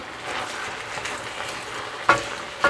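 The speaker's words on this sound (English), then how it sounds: "let it start frying a little bit first before you try to break it up." Soft, steady sizzling of ground turkey frying in a pot, with a couple of sharp clanks of a utensil near the end.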